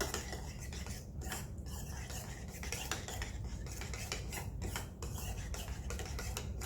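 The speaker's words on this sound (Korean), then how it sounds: "요거트 2큰술과 케찹을 1큰술 정도 넣고 섞어 주시고요." Yogurt and ketchup stirred together in a bowl, a steady quiet scraping and clinking of a utensil against the dish going on continuously and close by, with no talk over it.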